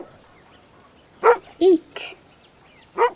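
A dog gives four short, sharp barks spaced irregularly over a few seconds, fairly close against a quiet background.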